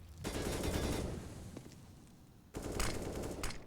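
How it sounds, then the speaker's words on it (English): Gunfire exchange in the tactical shooter CS:GO on the Nuke map, two loud bursts of rapid shots with a quieter gap between them, mostly clear of talk. "An exchange of bullets, but it favors OG."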